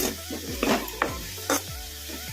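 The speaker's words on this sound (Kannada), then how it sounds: "ಫ್ರೈ ಮಾಡ್ಕೊಂಬಿಡೋಣ ಉಳ್ಳಾಗಡ್ಡಿನ ಈ ಥರ ಕಲಿಸ್ಕೊಂತನೇ ಇರಬೇಕು" Onions frying over a medium flame while being stirred in a pan for a handi chicken masala gravy, a steady sizzle with repeated scraping strokes of the spoon.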